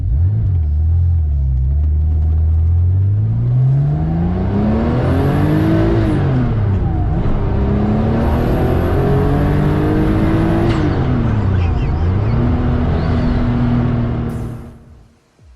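A DP Motorsport DP935 Porsche race car accelerates at full throttle from inside, its loud engine climbing through the revs, with gear changes dropping the pitch before it rises again, then easing off at the end.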